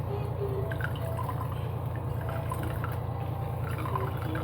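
Whey squeezed out of fresh homemade paneer wrapped in cloth, a steady close trickle and drip of liquid running continuously and fairly faint, with no talk.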